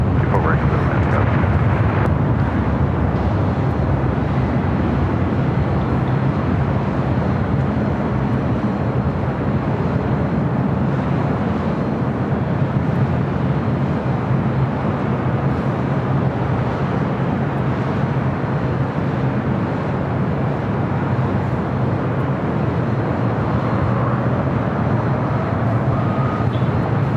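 An Embraer 175 jet landing on runway 24 right at LAX in a 12-knot wind, a broad steady engine rumble with faint whine, heard under tower radio calls and nearby talk throughout.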